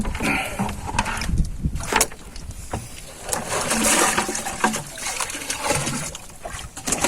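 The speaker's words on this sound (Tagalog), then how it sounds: "Lagyan natin ng tubig." Water is poured into a box on a fishing trip, giving close, uneven splashing and gushing in bursts that swell and fade, with sloshing in between.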